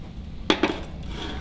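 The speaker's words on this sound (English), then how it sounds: "Okay, I'm going to put a lid on and then stick it on the fire." A lid is set onto a pot of crushed apples before it goes on the fire: two quick close metallic clinks about a beat apart, then a faint tap, over quiet room noise.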